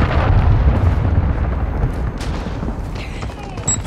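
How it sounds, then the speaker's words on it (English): A cruise missile explosion in the shooter game Call of Duty: Modern Warfare II on the Invasion map: a loud, heavy boom that rolls into a long, deep rumble and slowly fades, with faint debris crackle near the end. "Hostile cruise missile launched."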